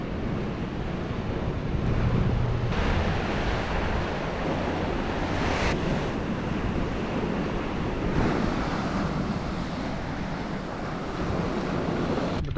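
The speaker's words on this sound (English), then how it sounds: "But the wind is still blowing" Wind blows over rough sea waves near islands: a loud, steady wash of surf and gusting wind with heavy buffeting on the microphone, continuous throughout, with no voices.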